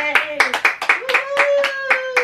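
Family members clap along after birthday candles are blown out at a home party, a run of sharp claps mixed with cheering voices and excited shouts.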